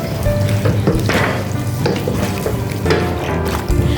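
Arbi (taro) frying in a pan, a loud close sizzle with crackling bursts and occasional stirring scrapes, continuous with no talking.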